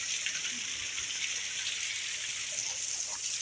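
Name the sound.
waterfall on Adhaura hill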